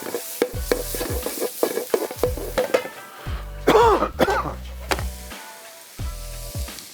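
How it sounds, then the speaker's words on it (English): Aromatics for chicken broccoli rice stir-fry in a hot pan, with repeated scraping stirs, bursts of sizzling and clattering utensil strikes in an uneven rhythm, close and fairly loud. "Stir fry."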